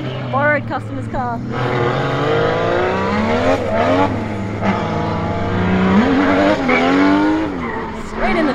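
A driver drives a borrowed customer's drift car on track, its engine revving and dropping repeatedly while tires squeal in bursts, loud and close, with people talking over parts of it.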